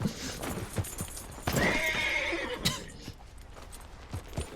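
A horse in the Red Dead Redemption II video game whinnies loudly near the middle, with scattered hoof clip-clops and soft footsteps before and after.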